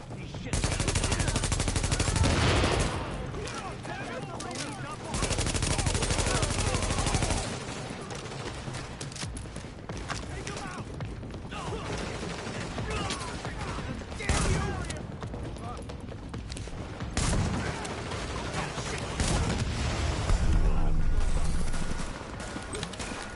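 Gunfire in The Division video game: repeated close bursts of automatic fire and single shots in a firefight with hostile forces, coming in loud waves with pauses, with voices talking between volleys.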